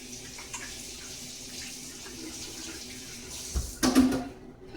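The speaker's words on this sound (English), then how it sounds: "Let me rinse my hands again." Tap water runs steadily and fairly quietly into a kitchen sink while hands are rinsed after shaping meatballs, with a brief louder splash near the end before the flow stops.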